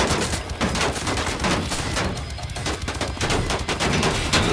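Sustained automatic fire from a German weapon in the shooter Wolfenstein: The New Order, dense rapid bursts close and loud with almost no pauses, a continuous rattling barrage.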